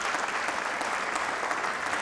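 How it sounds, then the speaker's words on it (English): Steady, dense audience applause greets a young volunteer coming onstage at a magician's show, a continuous even wash of clapping at moderate volume throughout. "Give him a round of applause."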